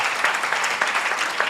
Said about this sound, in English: can we have a round of applause for all the finalists here and for all of you?